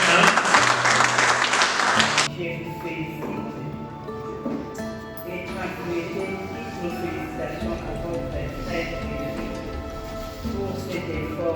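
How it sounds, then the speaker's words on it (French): An audience at a school awards ceremony claps loudly for a winning school for about two seconds, then the applause drops away under music and a hubbub of voices. "S'il vous plaît, veuillez applaudir l'IPER"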